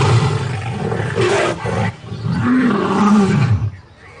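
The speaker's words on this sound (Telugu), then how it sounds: "సింహం గర్జిస్తే 5 మైళ్ళ దూరం వరకు వినిపిస్తుంది." Lion roaring in deep, heavy, rumbling bursts that swell and fade across several seconds, loud and close, with no talking.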